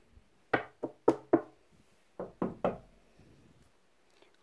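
Knocking on a door: a close, sharp run of knocks in two bursts, four raps then three, with quiet gaps and no talking.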